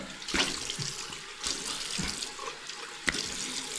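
Tap water runs into a sink while someone splashes their face, the steady stream broken by several sharp splashes and slurps close by, with no talking.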